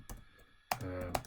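Fingers tap a computer keyboard while typing a SQL query, a few quick keystrokes close by, with someone talking over them.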